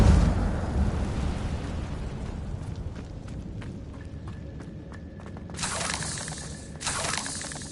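An Incendio fire spell cast in a Harry Potter game: a broad whooshing blast at the start that fades into quieter crackling, followed by two short fiery flare-ups near the end.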